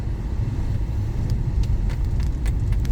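A car running on petrol along a highway, heard from inside as a loud, continuous low road rumble and engine drone with steady tyre noise throughout.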